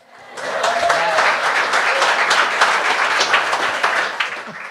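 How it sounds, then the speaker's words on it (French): A comedy club audience at the Bordel Comedy Club breaks into dense, sustained applause that swells quickly and holds steady at full volume for several seconds, with a few cheers mixed in, before starting to taper. "Merci d'applaudir"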